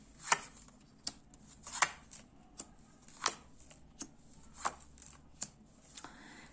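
Crisp, separate snaps of playing cards being handled and flicked onto a surface, about a dozen sharp clicks at an uneven, unhurried pace in a quiet room.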